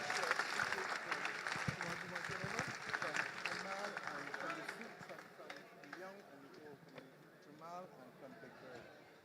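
Applause from an audience at a town hall meeting at Kensington Oval, a dense wash of clapping that fills the first several seconds and then thins as crowd voices and talk carry on over it.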